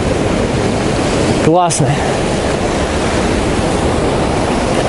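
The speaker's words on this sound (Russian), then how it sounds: "О, видите, как бьют волны." Sea waves crash against a pier at Khosta, Sochi, in December, a loud, steady roar of surf and spray filling the whole stretch, with a short spoken exclamation partway through.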